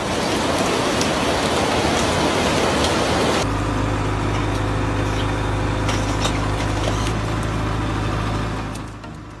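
Heavy storm rain pours down as a dense, loud hiss, then shifts to a steadier patter with a low engine-like drone beneath it, fading near the end.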